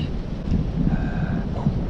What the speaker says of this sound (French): Il y a un vent de nord. Il nous a pas lâché depuis ce matin.